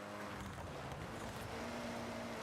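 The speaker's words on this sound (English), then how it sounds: "You can hear the engine has more power." Car engine in the racing game Forza Horizon 6 drones steadily under power during a rally-style drive, a continuous loud hum with a slowly shifting pitch and no talk.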